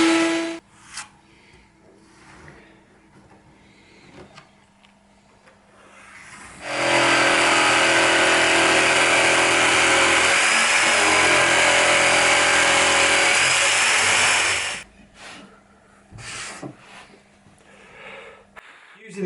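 A router on a router table trims curved timber against a template with a guide or trim bit. A loud, steady high-pitched whine holds for about eight seconds, framed by quieter workshop handling sounds before and after.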